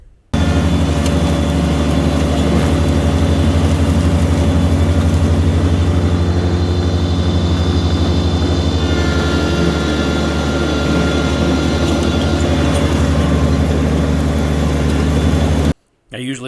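A Kubota BX2380 compact tractor runs at about 3,000 RPM with a mid-PTO shaft-driven mower deck, tearing through thick weeds. A loud, steady engine and deck drone holds close and constant, then cuts off near the end.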